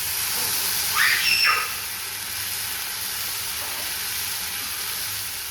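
Dosa batter sizzles in oil on a hot pan, a steady hiss running throughout with a brief brighter flare of sizzle about a second in, no voices present.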